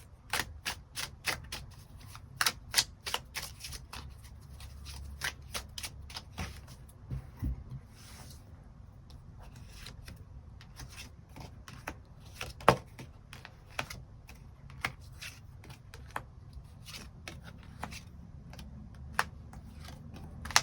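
Tarot cards being shuffled and drawn nearby, a long run of sharp, quick clicks and flicks over a quiet low hum, with no voices.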